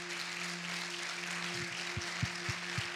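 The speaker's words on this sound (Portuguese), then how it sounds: "Dá uma salva de palmas para Deus, que Ele é muito bom." A church congregation at a youth gathering applauds with a soft, diffuse spread of clapping under a steady low electrical hum, while a few louder thumps land near the end.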